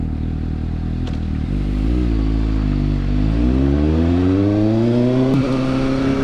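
A Suzuki GSX-S750 motorcycle fitted with a Hot Bodies GP slip-on exhaust idles, then revs up in a rising, throaty drone that climbs steadily before a quick drop, loud and close.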